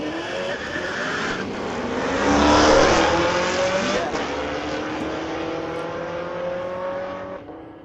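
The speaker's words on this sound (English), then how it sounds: "Those cars sound great, don't they?" Street-legal drag racing cars accelerate hard down the strip at Mission Raceway Park, a loud, close engine roar swelling to a peak then fading as the cars pull away, with a faint tire squeal.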